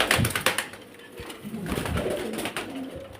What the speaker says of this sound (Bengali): এই যে পায়রাগুলো দেখুন পায়রা কোয়ালিটি দেখুন